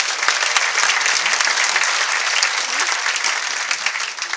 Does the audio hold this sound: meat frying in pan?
no